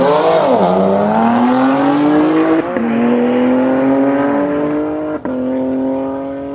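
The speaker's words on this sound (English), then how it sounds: "Got a F87 M2 versus a GT2." A BMW F87 M2 and a Porsche GT2 launch in a drag race at a private track day, one engine climbing hard through the gears with sharp pauses at each upshift, loud and close, with a brief tire chirp.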